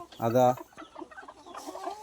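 Chickens cluck at a backyard coop. One loud, close hen call is followed by softer, scattered clucks and low murmuring from the flock.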